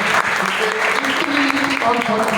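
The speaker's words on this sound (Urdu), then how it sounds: "اور زوردار تالیاں چاہتا ہوں" Congregation applauding during a church sermon in Malaysia, brisk clapping layered with a speaker's voice and tonal music or singing underneath, fairly close and loud.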